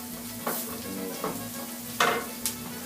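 Shrimp browning in a hot pan for New Orleans-style BBQ shrimp, a steady close sizzle with a few brief stirring scrapes and clicks, no talk.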